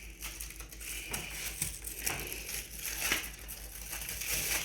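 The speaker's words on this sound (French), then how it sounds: "on va déballer une tablette" A chocolate bar being unwrapped in a home kitchen while baking a molten caramel chocolate fondant: soft, close crinkling and crumpling of wrapper foil and paper in irregular small bursts, fairly quiet.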